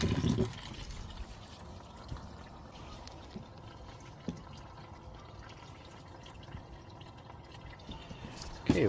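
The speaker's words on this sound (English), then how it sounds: "Super hard to film undoing that and the coolant draining out," Antifreeze coolant draining from the radiator of a Chevy Cobalt SS, a steady quiet trickle and drip under a low hiss, with a few soft clunks from the work area and no talk.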